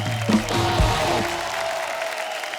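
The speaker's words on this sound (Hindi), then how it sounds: "जोरदार तालियां गायत्री और पुष्कर के लिए" A studio audience on The Kapil Sharma Show applauds, a continuous wash of clapping with a low musical tone and some faint background voices mixed underneath.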